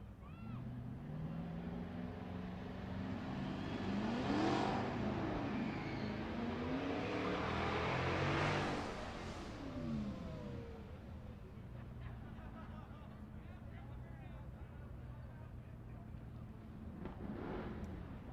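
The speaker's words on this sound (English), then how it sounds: "Jacob Rayburn in the right lane with the John Force burnout." A drag racing car doing a burnout at a race-week event, its engine roar rising and swelling over several seconds against steady crowd and track noise, with an announcer's voice over it.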